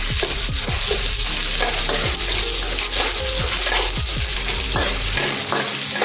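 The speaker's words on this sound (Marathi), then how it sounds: "आलं पण व्यवस्थित परतून घ्यायचं आहे." Grated ginger sizzles in a pan while being stirred for upma, a steady loud frying hiss punctuated by repeated scraping strokes of a spoon against the metal, with no voices.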